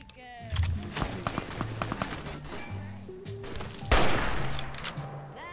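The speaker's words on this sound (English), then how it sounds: "Oh, hunting rifles time." Hunting rifle gunfire in Fallout: New Vegas, a series of sharp shots ringing out over game music and ambient noise, with one louder blast near the end.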